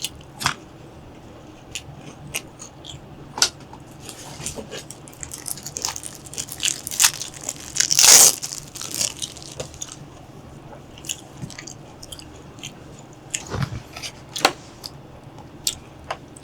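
Crunchy tacos bitten and chewed up close in Fukuoka, Japan, with a loud crisp crunch midway and scattered smaller crackling bites and soft chewing around it.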